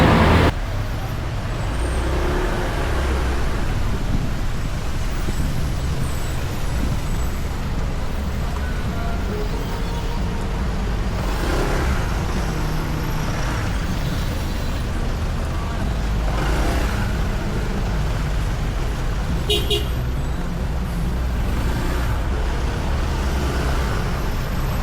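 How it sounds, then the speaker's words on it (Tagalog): Dense bumper-to-bumper traffic at night on the winding Zigzag Road (Bitukang Manok) in Quezon Province, a continuous broad roadway rumble of cars, buses and trucks with passing swells and a brief air-brake hiss, with occasional faint talk. "Bumper to bumper yung traffic dyan."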